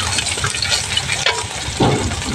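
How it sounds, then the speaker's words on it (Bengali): A ground paste of chili, cumin and ginger fries in oil, giving a dense close sizzle with stirring scrapes and a louder wet burst near the end. "এইখানে আমি লঙ্কা, জিরে আর আদা বেটে নিয়েছি, এটা দিয়ে দেবো। ভালো করে তেলে কষিয়ে নেব।"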